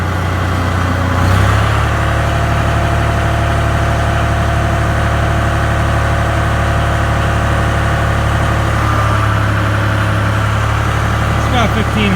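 Engine driving an H&S hay tedder throttled up to around 1500 RPM, a steady loud mid-pitched drone that rises slightly near the start and holds throughout, with no talk over it.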